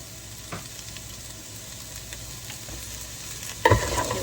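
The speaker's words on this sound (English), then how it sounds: "We're going to pop in a medium to large onion." Onion fries in hot oil inside a Ninja Speedi cooker, a soft steady sizzle with a few light stirring scrapes and a louder clatter near the end.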